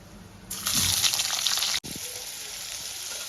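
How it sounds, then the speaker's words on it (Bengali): Paneer hitting leftover oil after potatoes were fried, a sudden loud sizzle that bursts in, cuts out briefly, then continues as a steady hiss. "ওই তেলের মধ্যে আমি পনিরটা হালকা ফ্রাই করে নেব"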